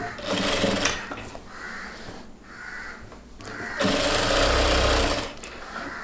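A sewing machine stitches the folded hem of a chudidhar pant, running in two loud, rapid bursts with a softer whirring pause between them, close by and without speech.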